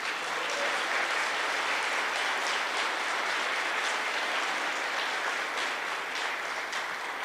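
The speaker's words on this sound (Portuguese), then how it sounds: "Vamos aplaudir ao Senhor Jesus" A church congregation applauds in a sustained, dense wash of clapping that stays even and loud throughout, with no pauses and no speech on top.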